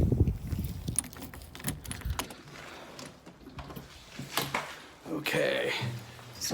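A set of keys jangles inside a dark observatory dome, with irregular metallic clinks and rattles that come and go at close range over several seconds, and no talking over them.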